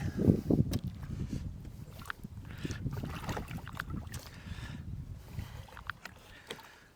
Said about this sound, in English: The classic dance of getting into the boat.